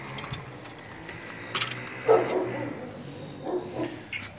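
A dog barking inside a house during a tense domestic dispute, giving a few short yips and whimpers at moderate distance amid shuffling and background noise.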